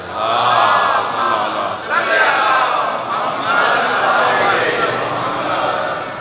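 A large crowd at a religious gathering in an imambargah loudly recites salawat together, a dense swell of voices that surges, dips briefly and rises again in unison.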